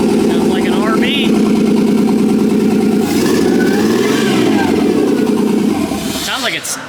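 A six-cylinder Nissan RB engine revs and runs unevenly with a misfire, holding a steady loud drone at close range before it dips and rises again, while people talk over it in a workshop.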